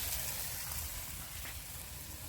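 Fried potato and paneer sizzle softly in a hot pan, a quiet, even hiss and crackle lasting a couple of seconds with no talking.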